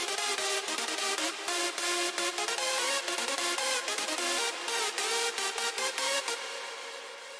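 Layered hardstyle synth chords and leads produced in FL Studio, bright, dense and loud, punched by rapid rhythmic gating and stutter cuts, with a brief fade at the end and no talking.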